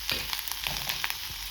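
Onions frying in a little oil in a kadai give a steady, fairly loud sizzle with small crackles and stirring scrapes throughout, and no voices.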